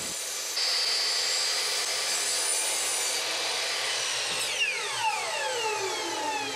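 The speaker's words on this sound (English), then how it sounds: "reset your chop saw to 45 degrees and put a bevel cut on each corner" A chop saw whines steadily through wood while making a 45-degree bevel cut for several seconds, then spins down with a falling pitch as the blade slows to a stop.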